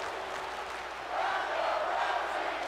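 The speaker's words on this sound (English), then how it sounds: "Maybe a handful of people are cheering for Ronda, but for the most part, they're kind of booing." Large arena crowd at an NXT Takeover wrestling event in Blackpool within WWE 2K20, booing Ronda Rousey with scattered cheers mixed in; a steady, dense roar that swells louder partway through, with no talk over it.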